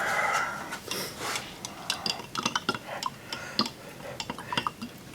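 Stir stick scraping and tapping inside a can of clear lacquer, a close, irregular run of small clinks and scrapes that quickens toward the end, with no talking.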